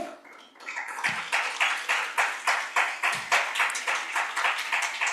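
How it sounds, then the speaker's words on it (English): Hall audience at a corporate learning and development festival clapping in a steady, bright patter of many hands after a panelist is introduced, holding fairly loud and even throughout with no voices over it. "A huge cheer."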